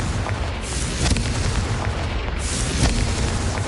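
Repeated Confringo fire-blast spells cast in Hogwarts Legacy on PS5, heard as a dense, booming rumble with a few sharper bursts standing out against a steady low-heavy game background.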